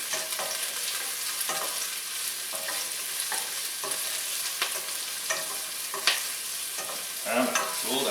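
Peppers for spicy chicken lo mein sizzling and frying in a hot pan, a steady close hiss with intermittent stirring scrapes and clatters throughout, no talk.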